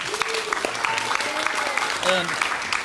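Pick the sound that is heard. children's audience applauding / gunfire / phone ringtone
children's audience applauding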